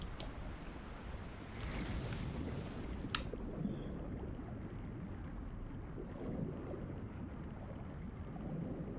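Steady low rushing of a waterfall in the game Call of the Sea, a continuous wash of water noise at moderate distance, broken only by a couple of faint clicks, with no voices.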